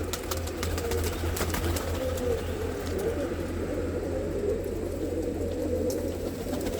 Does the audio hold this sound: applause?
no